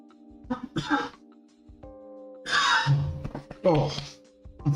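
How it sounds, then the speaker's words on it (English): Three harsh, separate coughs from one person at close range, spaced a second or two apart, over a low steady electronic hum. "occasionally the cough keeps coming back"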